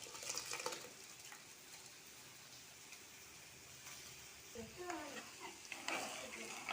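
Rice and soaked dal being stirred into a pot of boiling water, with steady bubbling and sizzling throughout and a few louder scraping stirs toward the end; no one speaks.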